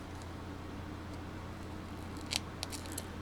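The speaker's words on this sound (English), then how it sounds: "trying to ungunk my scissors as I go." A few quick, crisp scissor snips cutting tape near the end, over a low steady background hum.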